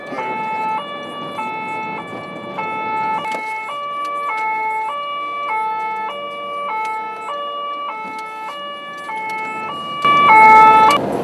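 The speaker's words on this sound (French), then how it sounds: "Les policiers enclenchent la sirène afin d'y arriver le plus vite possible." A French police car siren wails in a steady alternating two-tone pattern, loud and close, running continuously while the car speeds toward a reported burglary, with engine noise rising near the end.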